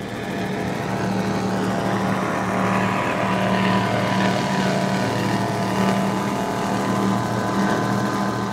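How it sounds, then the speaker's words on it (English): Twin Mercury Racing 540 engines drive the Project 1080 powerboat across Blackwater Sound on a Miami poker run, a loud, steady engine roar with constant wind and water rush throughout. "let's listen into these Mercury Racing 540s"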